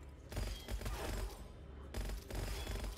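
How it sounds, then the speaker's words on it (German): Rapid bursts of sniper gunfire in the shooter game Gunfire Reborn crack in quick volleys, separated by a short pause, at moderate loudness without talk. "Die haben jetzt so richtige Sniper-Schüsse"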